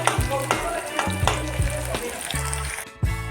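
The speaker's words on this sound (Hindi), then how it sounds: "प्याज को ब्राउन होने तक अच्छी तरह से फ्राई कर लेंगे।" Onions fry in hot oil in a pan while making chicken dry fry. A constant sizzle runs under regular clunks of stirring, repeating about every half second.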